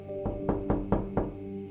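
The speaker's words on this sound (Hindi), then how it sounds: "थोड़ी देर हुई थी कि दरवाजे पर दस्तक हुई।" Five evenly spaced, solid knocks land on a wooden door late at night, close and distinct against a quiet room.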